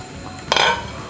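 A utensil scrapes and clinks against a container while stirring sugar into a hibiscus sobolo drink, one brief bright clatter standing out in an otherwise quiet moment.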